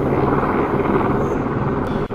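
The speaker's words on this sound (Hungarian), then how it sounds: "A pilóta szinte, hogy kilökött a helikopterből, annyira sietett visszafordulni a bázisra." A helicopter landing in the zoo-building video game Planet Zoo produces a dense, steady rotor-and-engine roar that fills the whole clip loudly and up close, with no voices over it.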